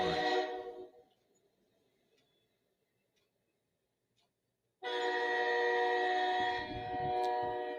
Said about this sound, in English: How about loud train horn?